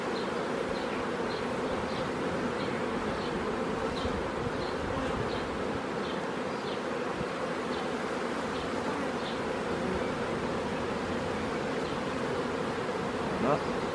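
Honeybees swarm over frames set aside from an open hive during queen rearing, a continuous close drone of many wings with faint high chirps, steady and unbroken, no talk audible.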